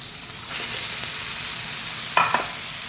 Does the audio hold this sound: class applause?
no